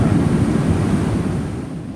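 Ocean waves washing onto the beach at Cape Disappointment, a continuous loud rushing surf roar that eases slightly toward the end, mixed with wind buffeting the microphone.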